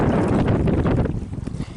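Strong gusts of wind on the north coast of California buffet the microphone with loud, uneven rumbling and roaring that dips and swells, with no voices.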